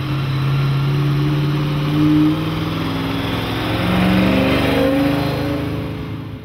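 A 1969 Maserati Ghibli 5000 SS with its 335-horsepower 4.9-liter V8 runs loud and close, idling with a steady low rumble and a couple of gentle revs rising and falling.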